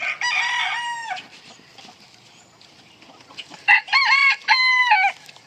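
A bearded buff bantam cockerel crows loudly up close, then after a quieter gap full of soft clucks from a blue hen and a black old hen, two more crows ring out in quick succession.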